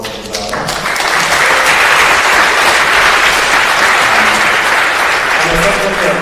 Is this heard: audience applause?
yes